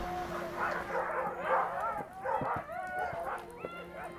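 Alaskan Huskies at a working sled dog yard in the Arctic, several dogs giving short barks, yips and whimpers close by, with a steady hum underneath.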